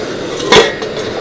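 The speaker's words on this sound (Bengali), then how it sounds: "এবার ঢাকনাটা খুলে দেখব" A lid comes off a pot of steamed wheat-flour snack with one bright metallic clank midway, set against a soft, steady background hiss.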